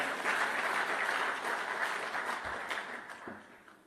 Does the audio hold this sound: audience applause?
yes